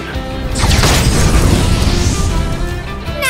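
A fire attack spell from Octopath Traveler II bursts with a loud whooshing blast that rumbles and crackles for a few seconds before dying away, followed by a short magical shimmer.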